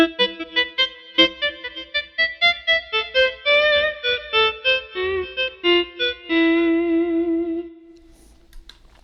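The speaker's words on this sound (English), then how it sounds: "Little verb on there, or a little echo." Clean electric guitar notes from a T-style guitar with orange drop capacitors, played as a melodic phrase with reverb and echo trailing each note and a sustained ringing tail fading out, no talking.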